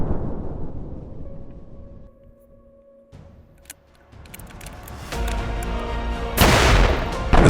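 A plastic bottle filled with HHO hydrogen gas explodes outdoors, a sharp blast arriving after a quiet stretch and followed by rumbling debris and a second loud burst near the end.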